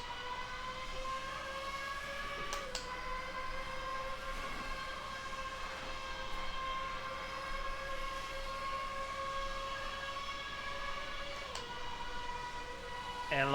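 A McLaren Senna Formula 1 car in the Automobilista 2 racing game, heard as a steady, high-pitched engine wail holding a sustained tone with a brief shift near the start and again later, loud and continuous with no talking.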